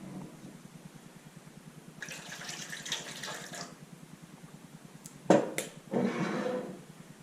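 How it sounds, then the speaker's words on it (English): Red wine vinegar pours slowly into a jerky marinade for deer, elk or beef, giving two short quiet splashing bursts with a small knock between them, close and without any talking. "And then I also throw in some red wine vinegar. It comes out pretty slowly."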